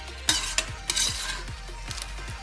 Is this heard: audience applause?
no